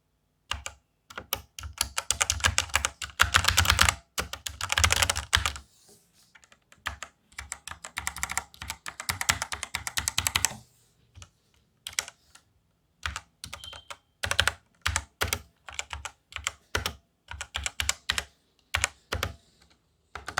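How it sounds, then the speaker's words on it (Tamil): Fingers type on the keys of a Cosmic-Byte mechanical keyboard, making crisp, close clacking in quick bursts separated by short pauses, with no voices over it. "ஒரு கீஸ் சவுண்டு, அதோடைய எப்படி ஃப்ரீக்வன்சி இருக்குது, அதோட சவுண்டு எப்படி இருக்குன்றதை நம்ம பார்த்தோம்"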